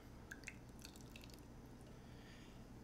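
Steel Reserve malt liquor pouring into a glass from a can, a faint bubbly trickle with soft drips and fizz over steady background hiss, quiet and close.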